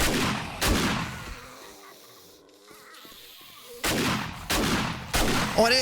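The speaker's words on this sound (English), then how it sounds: "I shot. Oh! That gun is so destructive." Gunfire in 7 Days to Die from a highly destructive gun: a loud shot near the start and three more sharp, close blasts near the end, with a quieter gap between.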